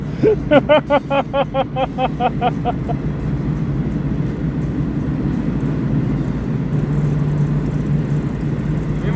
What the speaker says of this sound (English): He's got it floored and we're not accelerating.